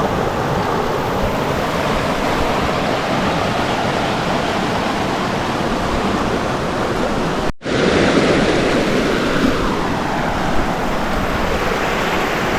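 A river flows beside the Appalachian Trail, a loud, steady rush of water that fills the whole clip close to the microphone, with no voices, briefly broken by a momentary cut partway through.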